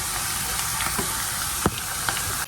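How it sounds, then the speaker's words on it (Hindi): Steady hiss of sizzling oil as a tempering for haleem is fried, with a few sharp crackles and pops, close and fairly quiet, no voices. "तो अब इसका तड़का शड़का डालेंगे"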